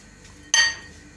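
A spoon clinks once against a glass or bowl while stirring sugar and vinegar, a short bright ring that fades quickly in a quiet room.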